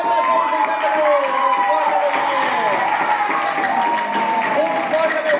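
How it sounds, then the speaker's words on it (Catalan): Lively applause and cheering at a school quiz competition, a crowd clapping steadily with raised voices mixed in throughout. "Un fort aplaudiment a totes les escoles"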